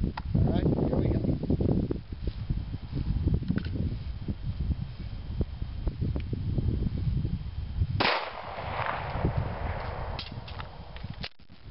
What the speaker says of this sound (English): We're going to fire a shot.